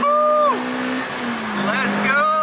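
A stock Lotus Exige on a dyno revs hard, a loud engine tone climbing and dropping in pitch, easing off briefly before pulling again, with a voice speaking over it.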